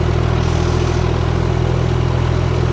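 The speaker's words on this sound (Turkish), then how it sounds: "inerken bir tek traktörü dört çeker alayım." A New Holland T580B tractor heads down a slope in four-wheel drive, its diesel engine holding a steady, loud, close rumble with a low throbbing hum and faint clatter and no break or change.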